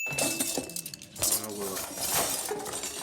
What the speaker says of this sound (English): Dumping the silverware into a pillowcase and all over the floor instead of just taking the whole box.